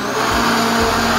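A newly bought electric blender runs steadily, blending cornmeal and other ingredients for creamy hot chocolate. It gives a continuous loud motor whir with a slight pitch wobble and no talking.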